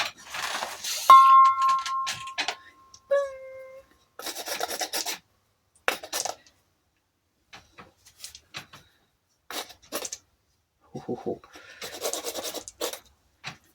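A Shinto rasp files a wooden wand in short, separate bursts of scraping, close by and fairly quiet, with pauses of near silence between the strokes and a few faint clinks early on.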